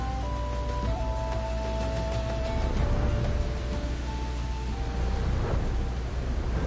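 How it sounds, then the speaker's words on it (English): Steady rain in Final Fantasy XIV sets up a dense, continuous hiss, with a low rumble like distant thunder running under it and faint tonal game sounds drifting over the top. "having this rain is definitely good for building atmosphere"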